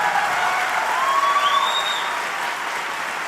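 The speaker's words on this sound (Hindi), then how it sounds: "डॉक्टर कुमार विश्वास साहब, जोरदार तालियों के साथ इस्तकबाल करें डॉक्टर कुमार विश्वास" A poetry gathering audience gives loud, sustained applause to welcome the poet Dr Kumar Vishwas. Thick, even clapping fills all three seconds, with a faint whistle rising through it and no speech.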